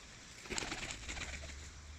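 A Sarampollo pigeon gives a short, soft, throaty cooing burst, close by but low in level, over a quiet background.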